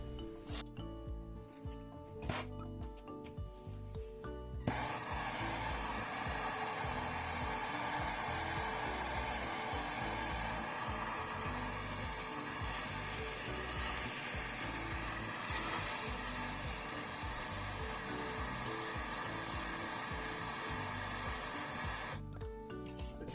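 A hair dryer or heat gun blows a steady, loud, hissing roar for most of the span while heating a part on a small farm, preceded by some quieter clattering handling noises, with no talking.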